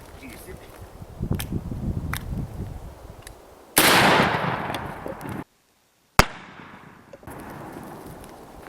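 An MK 1919 shotgun fires double-aught buckshot at an armor plate: several sharp, loud blasts at close range, one especially strong, each with a ringing tail, with a voice also heard in the clip.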